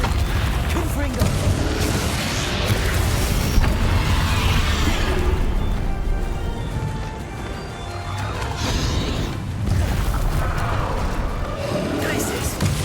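Confringo fire-blast spells bursting during Hogwarts Legacy combat: heavy crashes and booming impacts layered over continuous loud battle noise, with a voice talking throughout.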